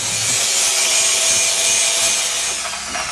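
A blunt cold chisel is sharpened in the course of a motorcycle chain and sprocket job, making a loud, close, continuous abrasive grinding rasp that eases slightly near the end, with no talk.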